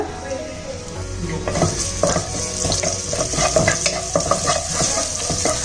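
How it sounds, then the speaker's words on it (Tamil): Chopped spring onion frying in hot oil for Chinese-style veg rice: a loud, continuous sizzle with frequent clattering stirs and scrapes in the pan, close by. "இப்போ நான் இதை ஆயில் போட்டிருக்கேன். ஆயிலில் இந்த ஸ்ப்ரிங் ஆனியன் நம்ம கட் பண்ணி வச்சுருக்கோம்ல"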